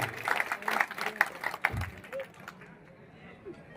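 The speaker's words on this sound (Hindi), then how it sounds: "इनके वास्ते एक जोरदार तालियां बजाना चाहिए सभी ने" Brief, fairly faint burst of audience clapping at a bodybuilding competition in Parbhani, lasting about two seconds before fading into low hall noise.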